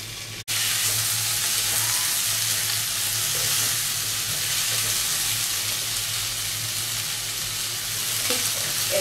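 Kadai chicken sizzles steadily in a hot wok for Bengali-style cooking, a dense and continuous frying hiss close up, broken only by a brief click near the start.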